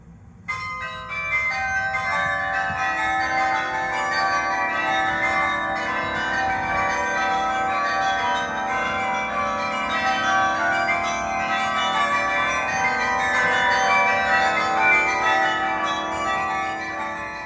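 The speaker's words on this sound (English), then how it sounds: "A test of the high bells alone was decided in order to determine the brilliance of the spectrum of the carillon." High-pitched carillon bells ring together in a bright, shimmering wash of overlapping tones that sustain steadily throughout.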